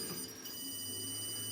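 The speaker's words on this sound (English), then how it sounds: "all that extra beeping, that tells me that there's some electrical back there" Faint electronic beeping from a stud finder in a quiet room, a thin steady tone repeating close by, with no voices.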